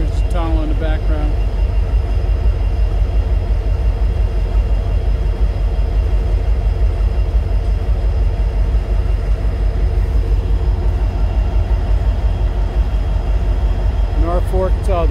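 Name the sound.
Norfolk Southern train passing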